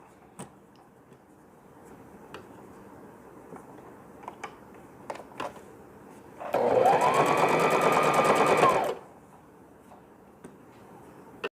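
Sewing machine stitching two layers of folded piping cloth for a newborn's ear-covering cap, one steady burst of about two and a half seconds rising over quiet room noise, close and fairly loud.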